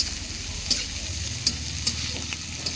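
Food sizzles steadily in a pan on the stove while a utensil scrapes and stirs it, with sharp clinks recurring about every second over the constant frying hiss.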